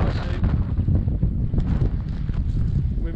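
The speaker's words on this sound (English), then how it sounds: "It's quite windy, bit of chop coming" Strong wind buffets the microphone while choppy water slaps against a kayak, a dense continuous rush with irregular splashes and no talking.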